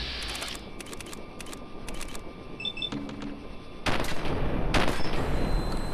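Intermittent gunfire from the video game Fallout 4, short sharp shots spaced apart early on, then a louder burst of rapid fire near the end, with faint game ambience between.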